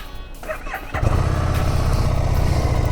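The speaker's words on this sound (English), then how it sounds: "quiet little engine. This is the Revolution engine" A Harley-Davidson Street Rod with the Revolution engine starts up after a few soft mechanical clicks, then settles into a close, steady, fairly quiet idle that holds evenly.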